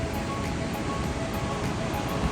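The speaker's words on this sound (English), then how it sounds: "This is the Liddar River in front. You can see it gushing, white waves" The Liddar River in Pahalgam, Kashmir, gushes past a riverside cottage with white waves. A steady, loud broadband rush of fast-flowing water fills the scene without pause and with no voices.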